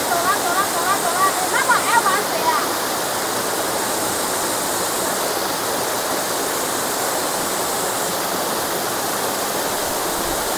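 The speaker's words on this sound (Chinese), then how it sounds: "我哋嚟到呢个第二个瀑布，但呢个瀑布嗰啲水量都几多喎" The second waterfall on a walk in Zengcheng, Guangzhou, carrying plenty of water, roars as a loud, steady, close rush that fills the whole clip, with a few chirps over it at the start.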